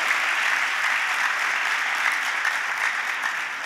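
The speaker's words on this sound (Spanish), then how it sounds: "le damos un aplauso a Dios" Steady applause from a congregation or seminar audience at a Spanish-language talk, even and continuous throughout at moderate loudness, with no voices on top.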